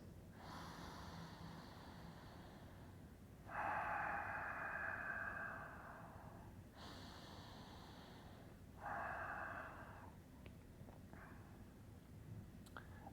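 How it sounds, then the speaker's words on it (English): Slow, deep breathing during a lying-down shoulder rotation exercise, several long airy inhales and exhales heard close and soft, spaced a few seconds apart against quiet room tone. "We're just deep breathing, relaxing that breath."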